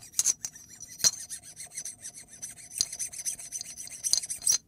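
Rough rasping scrapes along the inside of a rifle buffer tube from a compact stock kit, heard close and quiet, with intermittent sharp scratchy strokes and a few brighter metallic ticks.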